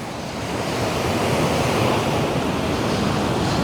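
Ocean surf rolls onto Copacabana beach in Rio de Janeiro, a loud, continuous wash of breaking waves mixed with wind buffeting the microphone, with no voices.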